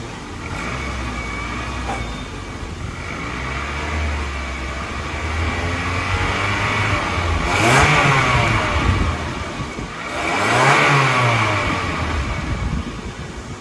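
A Toyota Corolla that is burning oil and blowing smoke drives and accelerates, its engine rising in two clear revving surges over steady road and engine noise, heard close with no talk.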